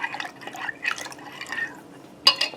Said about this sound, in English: So I'm going to give this a good stir.